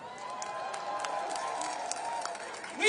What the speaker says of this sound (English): Clap yourselves up,